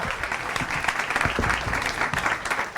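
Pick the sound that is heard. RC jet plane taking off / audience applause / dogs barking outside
audience applause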